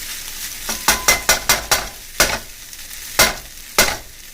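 Vegetable lo mein noodles stirred and frying in a pan, with a series of loud scraping stir strokes in quick succession, then a few spaced ones over a steady sizzle.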